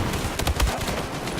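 Star Wars Battlefront gameplay sounds off with a quick burst of several sharp gunshots over about a second, loud and close.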